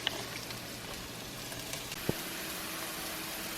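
Mushrooms sauté in a pan as the first step of a vegan eggplant parmesan, giving off a steady, even sizzle with one faint click partway through.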